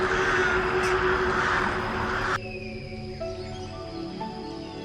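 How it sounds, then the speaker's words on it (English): Crows caw in a forest setting, several harsh calls carrying over steady background ambience and a continuous insect-like hiss, moderately loud and close, with no voices present. "This bird often gathers in groups and communicates with complex calls,"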